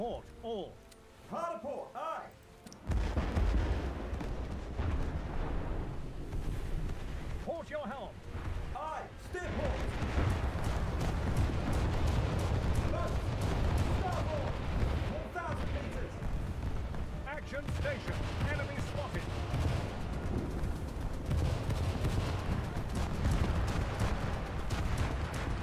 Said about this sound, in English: I got some hits of my artillery